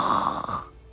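A person mimics snoring with a short, drawn-out nasal snore that fades out within a second, heard close and alone.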